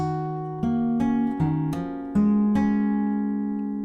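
Acoustic guitar fingerpicking the second half of the opening bar of a song, a handful of clear plucked notes ringing out one after another at an unhurried pace, close and alone.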